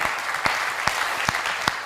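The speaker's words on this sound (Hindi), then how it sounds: "मैंने कहा आप तालियां जितनी घनीभूत करेंगे मैं और आगे बढ़ूंगा।" An audience at a Hindi poetry recital applauds steadily, a dense, continuous wash of clapping with a few sharper claps standing out at regular intervals.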